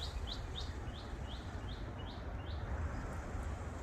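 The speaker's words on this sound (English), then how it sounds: "Can you hear the birds?" Birds in a forest sing a repeated series of high, quick rising chirps, about eight evenly spaced notes, over a steady low rustling background without talk.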